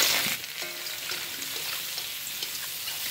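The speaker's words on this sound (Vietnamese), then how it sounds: "Bây giờ mình cho nấm rơm vào." Straw mushrooms hit a hot pan of garlic that is nearly golden, bursting into a loud hiss that settles into a steady close sizzle as they are stir-fried, with no talking.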